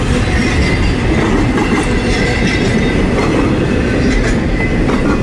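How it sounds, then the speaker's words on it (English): Amtrak Downeaster passenger train passing the Rosemont Street crossing in Haverhill, Massachusetts, a loud, steady close rumble of wheels and rail clatter filling the whole stretch without pause. "Amtrak's Downeaster heading to Boston."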